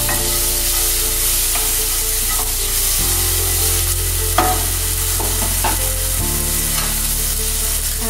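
Tomato frying in a hot pan, a steady loud sizzle that runs throughout with occasional spoon-stirring scrapes and clicks.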